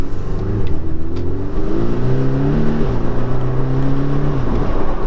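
A Porsche 718 Cayman S engine pulls hard under acceleration, its rising harmonic note climbing through several gear-like steps, close and loud throughout with no talking.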